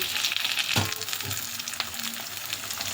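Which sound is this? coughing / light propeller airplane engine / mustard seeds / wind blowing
mustard seeds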